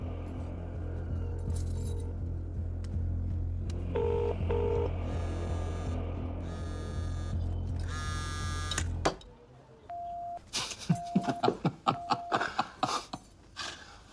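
A low engine-like hum runs beneath scattered tones, then a phone number is keyed in as a quick series of short, distinct beeps, fairly close and clear.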